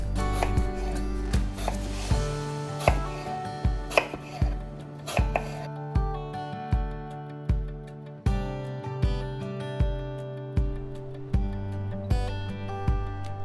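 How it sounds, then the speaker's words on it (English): A knife cuts an apple into thin slices on a cutting board, making a steady run of crisp, close chopping taps of about one per second, each followed by a brief knock of the blade on the board, with no talking. "For apple, cut in half in thin slice."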